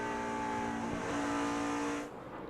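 NASCAR Cup cars at California in 2006 scream past on track, a loud, sustained engine whine with a rising pitch that fades off abruptly near the end, with no talk over it.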